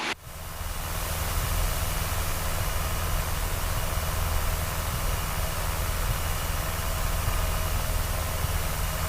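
Light aircraft engine droning steadily and fairly loud from inside the cabin, a constant broadband hum on approach to a private farm airstrip between trees, with no talk.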